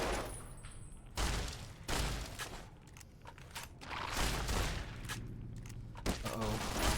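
Automated turrets in Fallout: New Vegas letting off gunfire: dense, continuous rattling bursts and crunchy impacts that rise and fall in loudness, with heavier volleys near the start and end.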